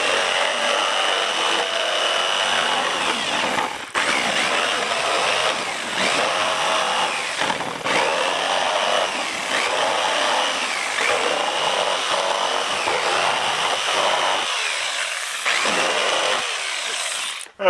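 A power saw, a skill saw or jigsaw, cutting a hole through the plastic lid of a honey bee catch container, a steady loud buzzing whine close by with a few brief dips and a sudden stop at the end.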